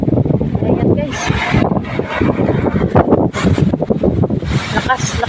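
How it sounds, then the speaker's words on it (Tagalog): Strong wind buffets the microphone outdoors near trees, making a loud, constant roar and rustle with gusty swells, and a person talks over it. "Lakas ng hangin."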